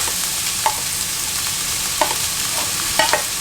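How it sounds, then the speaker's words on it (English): Onions sweat in oil in a pan with a constant soft sizzle and hiss, broken by three or four light clicks of a utensil against the pan, close and even. "Then we'll throw in all of our onions to let them sweat off"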